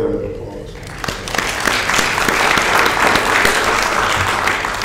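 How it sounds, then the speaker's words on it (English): Audience applause at a residents council meeting, a dense, steady wash of clapping from a roomful of people that builds after a quieter first second and holds at full strength. "I think they all deserve a special round of applause."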